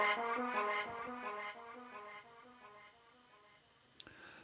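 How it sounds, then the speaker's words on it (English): A tech step pad stab from a Vital synth preset for drum and bass: a dark, sustained chordal stab with a few rhythmic pulses that decays steadily, followed by a short noisy click near the end, heard alone. "The sound's a very typical kind of tech step pad stab sound"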